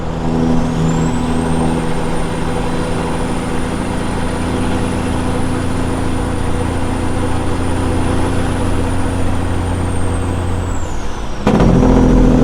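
A Peterbilt 379 truck brakes hard for a sudden stop, its heavy engine droning loudly and steadily with a high sustained air-brake squeal, ending in an abrupt burst of air release near the end.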